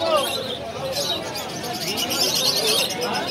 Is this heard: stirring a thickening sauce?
no